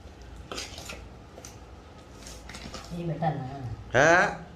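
Mango avakaya pickle stirred by hand with a litre of oil in a vessel gives soft, wet squelching and light clinks of metal, with a person talking over the later part.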